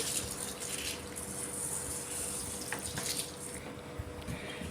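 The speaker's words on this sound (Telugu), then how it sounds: "నీళ్లు పోసుకొని శుభ్రంగా రెండు మూడు సార్లు ఇక్కడ నేను చూపెట్టిన విధంగా శుభ్రంగా కడుక్కోవాలి" Mung dal lentils are rinsed in water, making a faint continuous swish and slosh of water in a bowl with no one talking.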